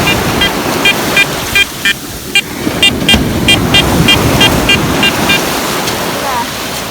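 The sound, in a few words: metal detector signal tone on the beach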